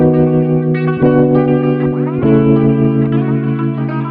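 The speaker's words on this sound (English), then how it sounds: "We'll do delay to bring it to life." A sustained synth melody in an Afrobeats track with a delay effect, echoing repeats trailing each note change, a few shifts in pitch over several seconds, steady and fairly loud.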